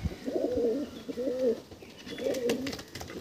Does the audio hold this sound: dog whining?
no